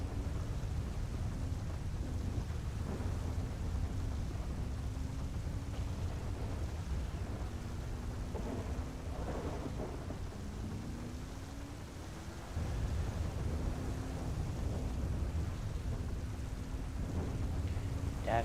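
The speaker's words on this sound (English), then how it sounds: "It's a thunderstorm in Harmony." A thunderstorm in Harmony drives rain sideways, and a heavy downpour hisses steadily around a vehicle. A low engine hum rises and falls underneath, with occasional deeper rumbles in a dense, unbroken wash of sound.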